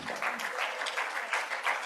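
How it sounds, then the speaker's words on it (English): A forum audience claps during the closing session of a CPA economic forum. The brief applause comes in rippling bursts, with faint voices mixed in. "So can we face them and we clap for them accepting that commitment?"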